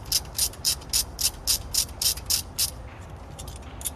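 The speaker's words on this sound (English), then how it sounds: "And you break them 2 bolts loose." A ratchet breaking loose the two brake caliper bolts on a 2009 Toyota Prius during a brake pad change: about ten quick, close clicking ratchet strokes in a steady rhythm, then a brief pause and one final click, with no speech.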